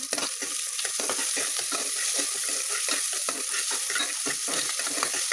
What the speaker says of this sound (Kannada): ಈರುಳ್ಳಿ ಚೆನ್ನಾಗಿ ಫ್ರೈ ಆಗಬೇಕಂತೆ, ಗೋಲ್ಡನ್ ಬ್ರೌನ್ ಬರೋ ತನಕ